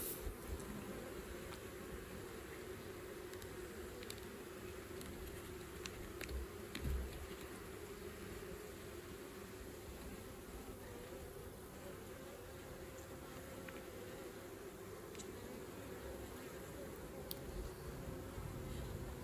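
A dense, steady hum of many honeybees buzzing close by at an open hive, continuous and fairly quiet, with no voices.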